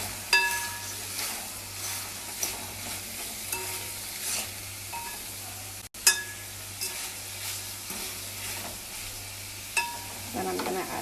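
Vegetables sizzle and fry in a pan as they are stirred before cabbage goes in, for steamed cabbage with saltfish; a steady sizzle with occasional utensil scrapes and clinks runs throughout.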